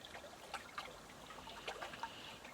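Water gently trickles and splashes in a body of water, a faint, steady flowing burble with small irregular splashes and no voices.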